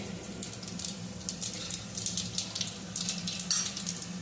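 Mustard seeds and cumin sizzle in hot oil in a pan for tempering, giving a steady frying hiss broken by quick bursts of crackling and popping, close up, with no talk.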